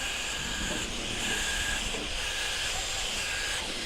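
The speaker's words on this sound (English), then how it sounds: "If you notice, you hear air escaping." A continuous loud hiss of air rushing out, steady and unbroken throughout, as a deployed life raft inflates with CO2 close by.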